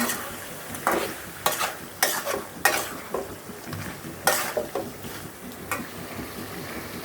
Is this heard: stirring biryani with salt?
yes